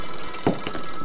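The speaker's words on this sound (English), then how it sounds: "I heard the phone ring." A telephone rings once in a short, bright burst set against a quiet background with faint steady tones, and no one speaks.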